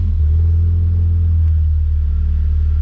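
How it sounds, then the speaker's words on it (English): A Lotus sports car's engine turns over and settles into a steady, loud, low idle rumble that continues unbroken to the end. "We'll go ahead and turn the car over."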